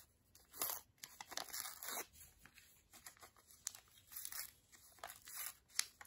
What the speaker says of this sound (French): Vous allez déchirer les bords.